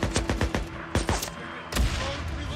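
Video game gunfire erupts in a fast volley of sharp close shots, several quick bursts followed by scattered single cracks and a heavier blast near the end.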